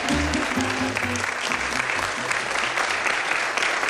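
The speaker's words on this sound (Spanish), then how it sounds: "toda esta gente está aplaudiendo porque hoy tienen algo que celebrar" A large crowd at a family gathering in a hotel in Almuñécar, Granada, applauds loudly and continuously, with voices murmuring beneath the clapping early on.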